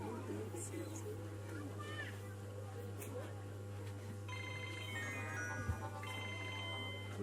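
A telephone ringtone starts partway through at a wedding gathering, a melodic electronic ringing that repeats over a steady low hum and faint background voices.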